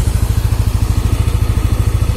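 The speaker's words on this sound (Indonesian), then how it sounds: "suaranya motor penulis ya" A motorcycle engine running on Vega oil idles close and loud, with steady, rapid, even thumping pulses and no talk over it.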